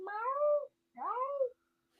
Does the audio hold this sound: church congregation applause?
no